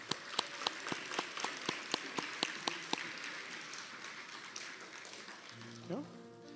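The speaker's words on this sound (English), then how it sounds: "Another round of applause for this group here." An audience at a nursing white coat ceremony claps, a few sharp, evenly spaced claps ringing out in a hall before the applause thins and fades, with a brief voice near the end.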